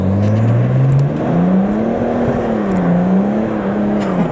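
A 400 hp car makes a launch start, its engine roaring loud and close with a rising, wavering rev that climbs and dips steadily for several seconds, with no talk over it.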